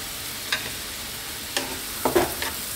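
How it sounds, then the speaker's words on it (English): Spinach, single cream and grated parmesan sauce is stirred in a pan over low heat, giving a soft continuous sizzle with a few louder scraping strokes of the spoon. "Stir this around and cook this."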